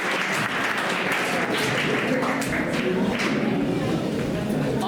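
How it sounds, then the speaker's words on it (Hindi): Loud, dense applause from an audience at a 10th-class result celebration ceremony, continuous clapping mixed with crowd murmur and talking voices underneath. "तो तालियों के साथ"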